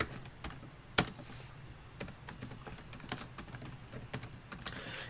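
Someone types Java code on a computer keyboard, a steady patter of light, close key clicks with one sharper strike near the start, quiet and without speech.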